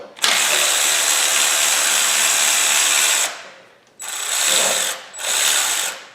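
A ratchet wrench works a 12 mm bolt loose on a Honda alternator bracket, giving a fast, close clicking that runs for about three seconds, then comes back in two shorter bursts, with no talking.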